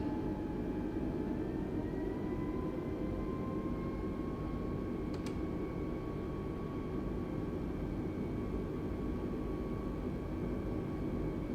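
An Airbus A320neo taxiing at low power in Microsoft Flight Simulator 2020, a steady engine drone with slowly rising whining tones, one brief sharp click midway, no voices.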